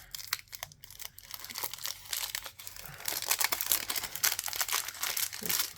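Very sticky paint-set stickers being pulled off wax paper, close crinkling and crackling with short tearing peels that grow denser and louder in the second half.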